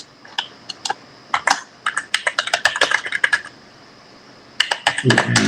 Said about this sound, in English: we click on link account, and then we type in our email, Chris